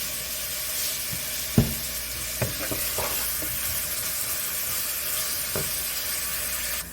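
Onions frying in a pan with a little salt, a continuous close sizzle with occasional scrape and tap of a spatula.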